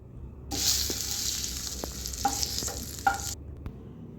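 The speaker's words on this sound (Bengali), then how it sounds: "পনিরটাকে আমরা হালকা একটু ফ্রাই করে নিচ্ছি" Paneer lightly frying in a pan: a steady, soft sizzle of hot oil runs for about three seconds, with a few small clicks and taps of stirring, and no talking.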